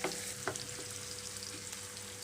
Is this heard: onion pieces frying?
yes